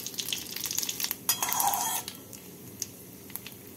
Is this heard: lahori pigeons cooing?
no